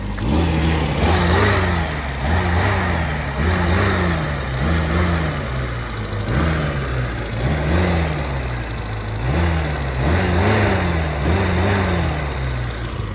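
A loud three-wheeler car engine runs steadily close by, its pitch cycling up and down in regular surges as if being revved, with no talking.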